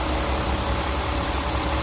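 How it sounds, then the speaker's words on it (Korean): A used Porsche Panamera diesel sits idling with a steady, even engine hum, close and continuous with no other sounds. "엔진 소리가 아주 기가 막힙니다"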